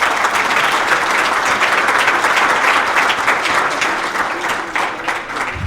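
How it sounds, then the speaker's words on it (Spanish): Sustained audience applause fills a municipal transparency forum in Tepatitlán as a guest is welcomed, dense and steady for several seconds before easing slightly near the end. "Un fuerte aplauso para Fabiola."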